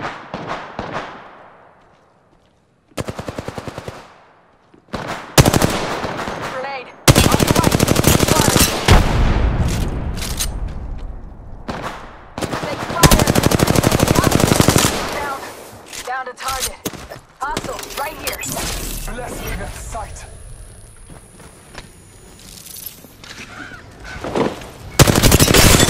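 Gunfire in the video game Apex Legends, with repeated bursts of rapid automatic fire and single shots broken by short quiet gaps, loud and close, along with other in-game sounds.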